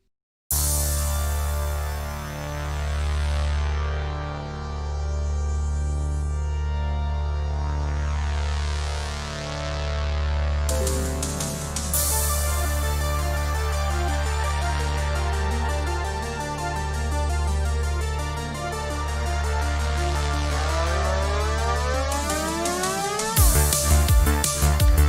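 An original trap beat melody plays back with a deep, pulsing bass swelling in steady waves under layered synth tones and airy rising sweeps, growing busier midway and cutting off abruptly near the end, with no voices.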